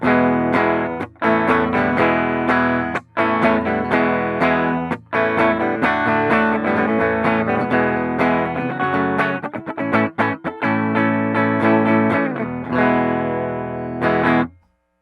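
A loud distorted Fender American Professional II Jazzmaster electric guitar, both pickups in series, plays chords and riffs with brief silent breaks, thick and gritty with a strong overdriven tone.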